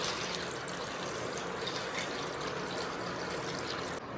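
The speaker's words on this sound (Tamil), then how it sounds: "இந்த கேப்பில் மக்ரோனியை அலசி எடுத்துக்கலாம். இதை ஒரு வாட்டி லைட்டாக அலசினா போதும்." Macaroni being rinsed in running water during cooking, a steady close gush of water pouring continuously throughout without pause.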